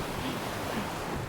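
Big ocean waves roll past a sailboat offshore in Alaska, a dense continuous wash of surf and wind noise, steady and fairly loud throughout.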